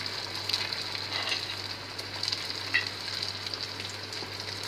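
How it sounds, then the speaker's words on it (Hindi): Sabudana and potato tikki deep fry in a pan of hot oil, giving a steady, soft sizzle with small crackles throughout and no voices. "हमने पैन में तेल गरम कर लिया है इसको डीप फ्राई करने के लिए, और इसमें अब टिक्की को डालेंगे 1 बाई 1 करके"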